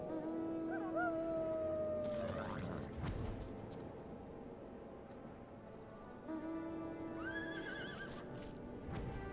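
Horse mounts in the online game FFXIV neigh and whinny in two drawn-out, wavering calls a few seconds apart, mixed with game effects and a busy background wash.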